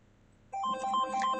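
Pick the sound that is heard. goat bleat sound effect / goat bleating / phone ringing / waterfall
phone ringing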